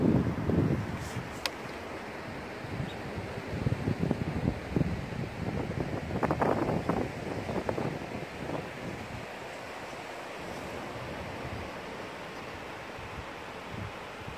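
Waves break on a beach in Tangier, with a broad rolling surf wash and gusty wind buffeting the microphone. The surge is strongest early on and settles into a steadier roar.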